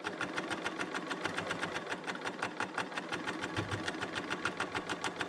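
A Bernina L890 sewing machine runs steadily, chain-stitching a quilt sample, its rapid, even needle strokes repeating evenly and close for several seconds with no talking.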